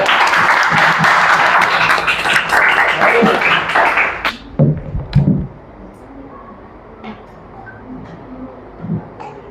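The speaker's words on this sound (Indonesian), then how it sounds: "Tepuk tangan untuk Abastian." A school crowd applauds loudly and steadily for about four seconds, then the clapping quickly dies away into a quieter room with scattered small noises.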